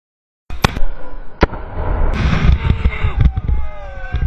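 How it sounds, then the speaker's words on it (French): A GLI-F4 grenade goes off during a protest, a sharp blast followed by further loud bangs and pops over a rumbling, chaotic crowd background. "Son explosion produit une déflagration très dangereuse, de 1 mètre de diamètre."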